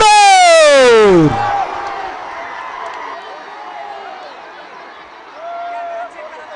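Crowd roars at a Hind Kesari wrestling match in Pusegaon, a loud broad wash of cheering that follows a sharp descending horn-like wail and keeps up steadily, swelling again near the end.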